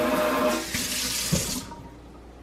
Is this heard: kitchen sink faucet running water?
yes